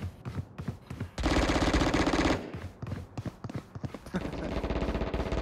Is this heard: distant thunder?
no